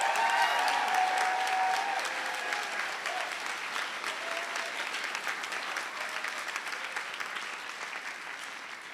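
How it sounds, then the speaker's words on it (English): Enthusiastic applause from a large crowd at a graduation convocation, loud at first and gradually tapering off while still going strong. "Can we have one more big round of applause for these amazing grads?"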